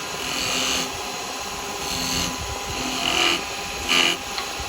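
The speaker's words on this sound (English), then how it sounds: "I'm going to use a skew for this one, so I'm going to come in here." A skew chisel cuts wood on a lathe while a birdhouse is being turned, giving a steady whirring scrape with a few louder swells as the tool bites, close and without speech.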